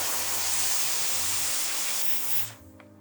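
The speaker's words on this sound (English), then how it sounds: "It's basically you just pour a bunch of water in it, gets really hot and shoots out steam" A handheld steamer loaded with water blows hot steam onto the mesh of a Yeezy 350 sneaker, a loud continuous hiss that cuts off abruptly near the end, leaving brief quiet.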